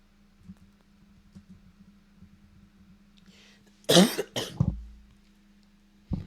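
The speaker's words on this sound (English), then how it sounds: "I've been sick lately with this cough on and off." A sick person coughs in a short loud burst of two or three harsh coughs, close and clear, after a stretch of quiet low background hum.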